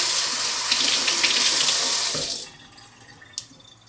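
Tap water runs steadily from a faucet into a DIY handle drip catcher, a loud continuous splashing rush that cuts off abruptly partway through, leaving quiet room tone with a small knock near the end.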